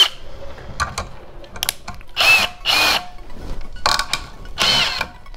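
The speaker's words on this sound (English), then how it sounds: "Could I put this thing into my fucking drill?" A power drill spins a homemade memory drum in bursts, whirring and rattling with mechanical grinding that rises and falls as the trigger is squeezed and released, close and loud.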